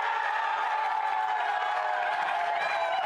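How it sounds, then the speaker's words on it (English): A cricket crowd roars steadily after a catch is taken in a Nepal versus Melbourne Renegades match, a dense, continuous wall of cheering and clapping that stays loud throughout without pauses. "if you didn't see it, then the crowd noise will tell you"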